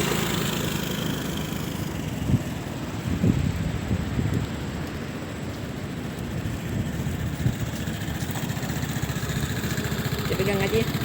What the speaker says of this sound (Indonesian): Ini testing kalau jalan motornya.